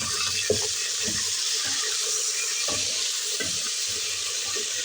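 Meat being bhuna-fried in a pot for shaljam gosht, a constant hissing sizzle with faint clinks and stirring knocks underneath, steady and close with no talking.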